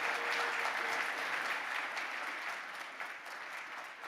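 Audience applause at a conference session honoring volunteers and venue workers, a steady dense clapping from a large crowd that holds strong for about four seconds and tapers slightly toward the end.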